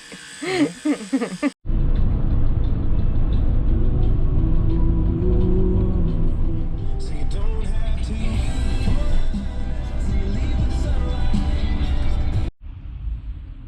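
A Ford Transit van drives off the freeway into a small town, giving a steady, loud engine and road rumble that runs unbroken for about eleven seconds before cutting off abruptly.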